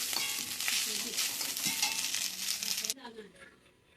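Leftover biryani is reheated in a hot wok (kadai), a loud, close sizzle with scraping stirs that runs for about three seconds, then cuts off to a quiet room.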